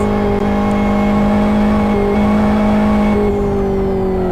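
An onboard racing car in a sim race for Bulgaria brakes hard for a right-hand corner, its engine note droning loud and steady with small pitch drops and shifts.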